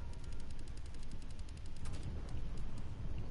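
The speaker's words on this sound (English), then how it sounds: "High-powered rounds." Sustained rapid gunfire from high-powered rounds in Resident Evil 2 keeps up a dense, steady crackle of overlapping shots at close range with no pause.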